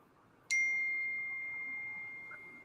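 A phone notification ding rings out once, sharp and clear, then its pure tone lingers and slowly fades over a low room murmur, with no talking.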